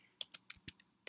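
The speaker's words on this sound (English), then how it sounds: "let's type your address here" Keys on a computer keyboard clack in a short, uneven burst of several near, crisp taps with brief pauses between them, no voices.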